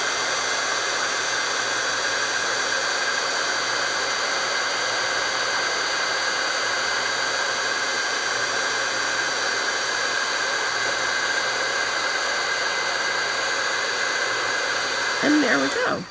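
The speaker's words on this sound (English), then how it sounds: "people will take their heat tool and go back and forth and back and forth" A heat embossing tool blows hot air in a loud, constant roar that continues close up for the whole stretch, with no talking in the gaps.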